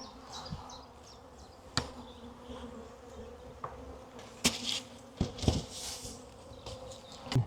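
Honeybees from a former swarm buzz faintly in and around an open hive, with scattered knocks and clicks as frames are handled nearby.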